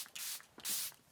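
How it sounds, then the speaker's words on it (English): Charlotte Tilbury makeup setting spray hisses out in two short, close bursts, separated by a brief pause. "I'm gonna use my Charlotte Tilbury setting spray"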